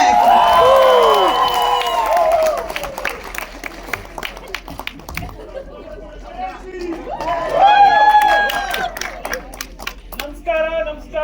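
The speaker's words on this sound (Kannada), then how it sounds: "ಬಂದ್ರು ದೊಡ್ಡ ಚಪ್ಪಾಳೆ" A large crowd at a public event with film star Golden Star Ganesh claps and cheers loudly, swelling at the start and again near the end, with whistles and shouting voices over the clapping.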